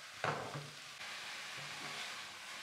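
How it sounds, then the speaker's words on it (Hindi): Chicken mince frying in a little oil, a soft continuous sizzle with a few spoon stirs and scrapes against the pan, close and fairly quiet, with no one talking. "इसके अंदर फ्राई करेंगे कम ऑयल में, जब तक कीमा अपना कलर चेंज नहीं कर लेता।"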